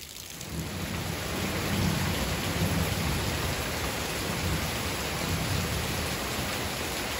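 Heavy rain pours onto a garden in a dense, constant hiss, joined by deep low rumbles of thunder, steady and enveloping with no voices.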